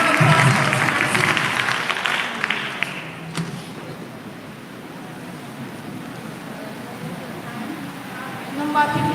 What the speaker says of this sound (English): Please, a round of applause for Usman Silla.